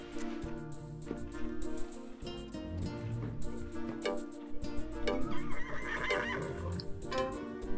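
A horse in the Alexandra Ledermann stable game being washed down with a water jet, giving a whinny and neighing over a busy bed of game music and stable sounds, moderately loud throughout.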